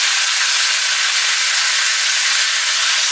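Tomatoes hit a hot wok of onions and sizzle in a loud, steady hiss of bright, dense frying noise that holds constant throughout.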